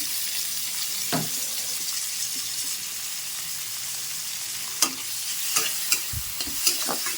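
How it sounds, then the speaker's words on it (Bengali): Ginger frying in a pan gives a steady, low sizzle with occasional stirring scrapes and soft clicks, a few sharper knocks near the end, and no voices. "আমি আদাটাও ভালো করে জাস্ট ভেজে নিচ্ছি"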